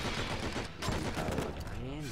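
Rapid bursts of gunfire from the video game Enter The Matrix crackle almost continuously over a short stretch, with voices mixed into the shooting.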